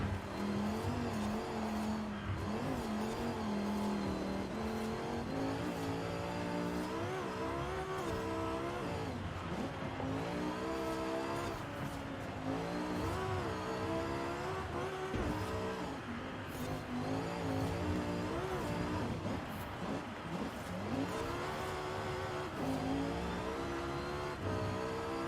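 A car engine in Forza Horizon 5 revs and drives in the open world, loud and continuous with rising and falling pitch through gear changes for the whole stretch, alone without talk.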